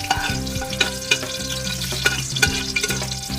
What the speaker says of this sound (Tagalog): Mag-gigisa na tayo. Yan, at syempre guys, pag nagigisa ako, hindi mawawala yung luya.